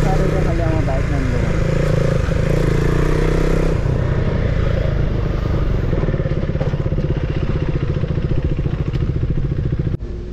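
A motorcycle engine runs with a steady mid-pitched rumble and rattling clatter for the whole stretch, loud and close, with some background voices.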